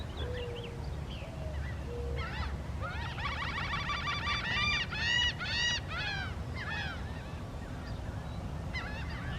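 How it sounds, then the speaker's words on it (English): Seaside birds at the Jersey Shore, by a canal, give a run of repeated honking, squawking calls at moderate distance over a low steady background rumble, with no talking. "And you hear those seagulls and you know where you are."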